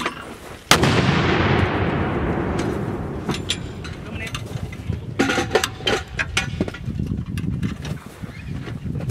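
A Ranger Fire Support System artillery gun fires with one loud, sharp blast whose rumbling echo decays slowly, followed by clanks and handling noises. Voices are heard faintly in the background.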